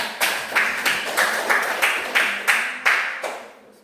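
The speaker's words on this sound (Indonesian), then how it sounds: "mari kita tepuk tangan dulu" Short rhythmic bursts of clapping from a small group, about nine even claps that trail off at the end.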